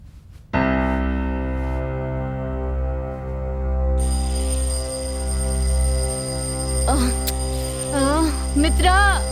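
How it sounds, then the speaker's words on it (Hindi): An alarm rings in a Hindi-dubbed horror film: sustained tonal ringing starts abruptly and holds steady, with a higher tone joining partway and a warbling, wavering sound near the end. "अलार्म बज रहा है"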